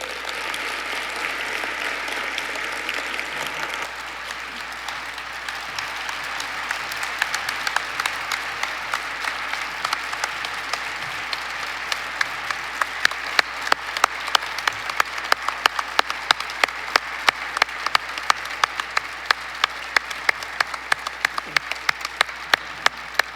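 An audience at the 41st Annual MLK Day of Celebration applauds in a sustained wash of clapping that thins toward the end into slower, distinct rhythmic claps.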